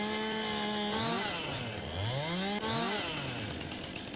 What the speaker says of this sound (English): You know how much gas I would use in this chainsaw?